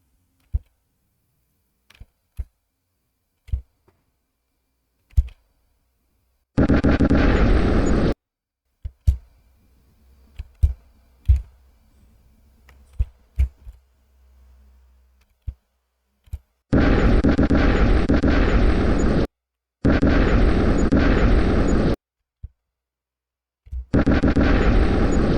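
Explosions in an asteroid shooter game built in Scratch: several loud, sustained bursts of blast noise lasting one to two seconds each, separated by scattered sharp clicks and pops, with quiet gaps between.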